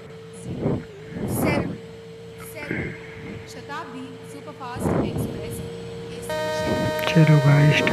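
Jan Shatabdi Express locomotive horn in Indian Train Simulator, departing Mathura: a steady tonal horn note holds under a voice talking throughout, with a richer multi-tone horn blast swelling near the end.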